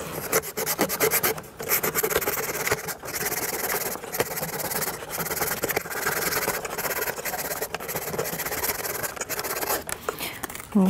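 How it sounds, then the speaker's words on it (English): The wooden wheel of a Ugears hurdy gurdy model kit is sanded by hand with steady, close rasping strokes and brief pauses, while a voice talks over part of the sanding. "Sand the wheel surface once more."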